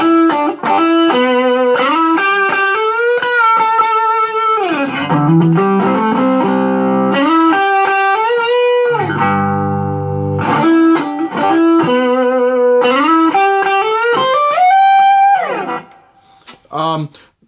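Overdriven electric guitar through an Analog Man Prince of Tone pedal, a melodic run of sliding notes and bends with a few lower chordal stretches, loud and close, fading into a brief pause near the end.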